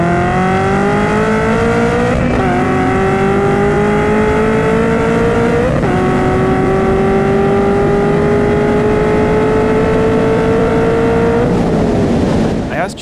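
A supercharged Ford Mustang races hard, its engine note climbing loudly through each gear, with three distinct shifts breaking the steady rising drone, close and dominant the whole time.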